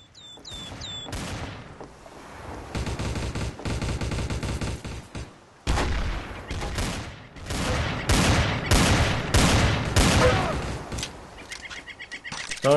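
Rapid gunfire in the shooter game Trouble in Terrorist Town, with dense bursts of automatic fire and repeated shots that continue loud and sustained across the clip, broken by one brief pause.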